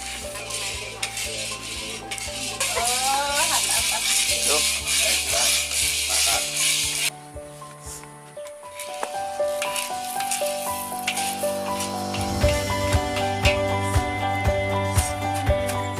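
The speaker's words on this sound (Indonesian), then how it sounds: "Biji kopi ini kemudian disangrai menggunakan tungku kayu bakar, memakai wajan khusus" Coffee beans rattle and scrape as they are stirred in a metal wok over a wood-fired stove, with a soft sizzle and clinks of a utensil throughout, and music playing underneath.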